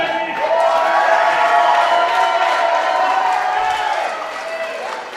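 A crowd at a live independent wrestling event cheers and roars loudly in a sustained swell of shouts, holding for several seconds before slowly easing off.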